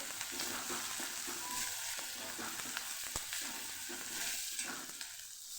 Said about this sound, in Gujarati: અને ડુંગળીને આપણે ઉમેરીને સાતડી લેવાની છે